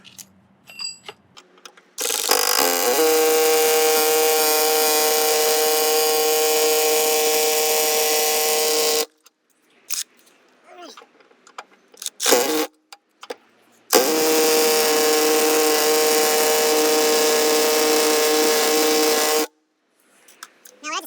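A hammer drill hammering out a Ford Fiesta door hinge: two long bursts of loud, steady mechanical whirring with a strong tonal whine, each running several seconds, separated by short pauses with scattered knocks.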